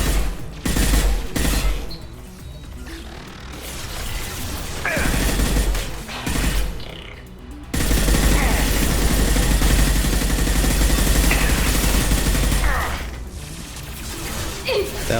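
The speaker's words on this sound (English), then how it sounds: "That was a lot of bullets." Dense gunfire barrage in the sci-fi shooter Mass Effect 2: a long, loud wash of rapid shots and clattering mechanical impacts. It briefly thins near the middle, then resumes at full intensity.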